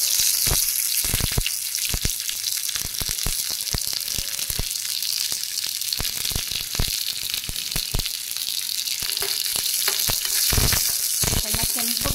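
Spice paste sizzles steadily in a little hot oil for chicken gravy, a continuous close fry with frequent scraping and stirring clatters on the pan.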